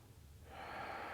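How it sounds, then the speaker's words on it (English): A single ujjayi breath during a vinyasa yoga flow, a soft hissing airflow swelling in halfway through and holding steady, close and fairly quiet, with no talking. "Ujjayi, your natural breath."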